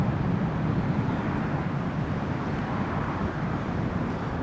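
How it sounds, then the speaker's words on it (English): An EasyJet airliner comes in to land through strong, gusty wind, giving a loud, steady broadband engine roar that stays near and constant throughout, mixed with heavy wind buffeting on the microphone. "So EasyJet's just fighting that wind coming down."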